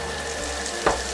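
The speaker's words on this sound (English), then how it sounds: "we're gonna fry the onions now. So now let's add the meat." Minced meat tipped into a pan of onions frying in oil gives a steady, close broadband sizzle, with one brief louder hiss near the end. No one talks.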